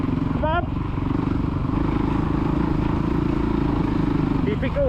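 A kid's motocross bike revs steadily on the Astley MX main track, its engine droning loud and close throughout while someone shouts encouragement over it.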